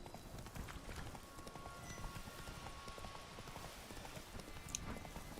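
Roach the horse's hooves clip-clop steadily on the ground in The Witcher 3: Blood and Wine, a continuous moderate-level trotting rhythm close by with faint ambient background.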